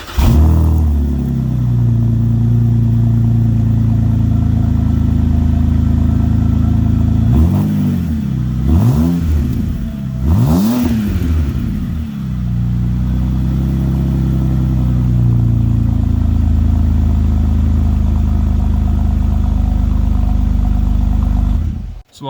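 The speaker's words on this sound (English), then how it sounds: "I'm gonna give you what it sounds like with just a muffler off clip real quick" A BMW E90 runs with its muffler removed inside a garage, giving a loud, steady, raw exhaust drone at idle with a few sharp revs in the middle before settling back to idle, no talking.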